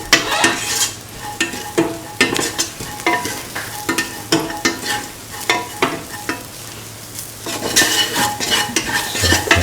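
Cauliflower and bottle gourd rice is sautéed in a pan, with a rhythmic run of utensil scrapes and clinks against the pot over a steady frying sizzle, close and fairly loud.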